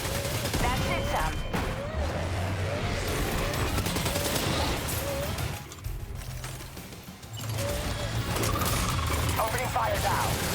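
Rapid gunfire rattles through a Death Stranding 2 boss fight, sustained bursts of automatic shots with mechanical clatter, close and loud, briefly thinning midway before resuming.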